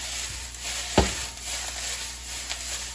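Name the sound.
saimin noodles frying and crisping in pan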